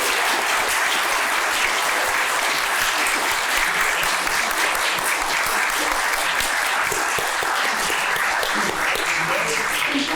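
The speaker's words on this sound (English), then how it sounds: "So let's give one last huge applause for our speakers." An audience at a Jordan Peterson discussion panel applauds the speakers, a dense, loud and continuous wash of many hands clapping that holds steady for the whole stretch.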